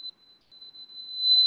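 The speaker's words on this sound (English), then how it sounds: "So can you hear the buzzer sound, sir?" Buzzer of a moisture sensor system aboard a deep-sea fishing vessel gives a steady, thin, high-pitched electronic tone that holds for the whole moment and ends in a brief burst of noise.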